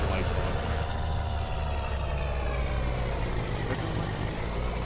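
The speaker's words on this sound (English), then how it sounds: "they're going to be hearing all the noise and stuff from my tractor" A tractor engine drones steadily and loudly in Farming Simulator 25 on a foggy morning at a forest property, a continuous low rumble with no breaks and no talking.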